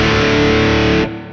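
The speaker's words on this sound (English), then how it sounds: "moving on to the third sound, the heavy sound" Heavily distorted electric guitar through a Mooer Preamp Live on its heavy preamp setting, a loud, dense, sustained chord ringing about a second before being cut off and decaying.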